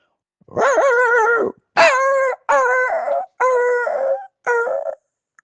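A voice imitates a dog, producing five separate howling, whimpering yelps in a row with short gaps between them, close and clear against silence.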